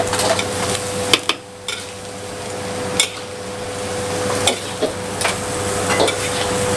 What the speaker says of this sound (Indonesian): Ini jangan langsung kita masukin air, tapi kita tumis dulu biar wangi dulu sayurannya.